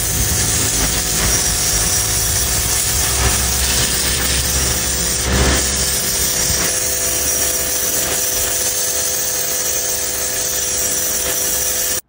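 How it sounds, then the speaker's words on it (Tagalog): A pressure washer blasts stock paint off a project motorcycle's bike chassis, a loud, steady hissing spray that runs unbroken for the whole stretch with no talk. "kaya ginamitan ko na agad siya ng pressure water."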